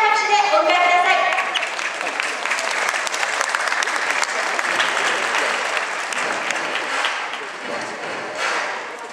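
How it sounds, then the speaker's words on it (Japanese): Sustained audience applause fills a wrestling arena as finalists of a men's freestyle 120 kg championship final walk in, a steady dense roar of clapping that fades slightly near the end, with brief voice at the start. "盛大な拍手でお迎えください。"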